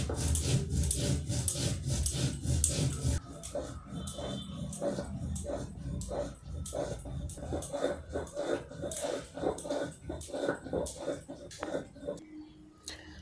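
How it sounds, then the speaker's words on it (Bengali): Cumin seeds being ground into a paste on a stone slab while making a Bengali seeded banana (biche kola) dish, heard as a steady run of rhythmic rubbing and rasping strokes at close range with no talk. "এবার আমরা জিরাটা বেটে নিচ্ছি।"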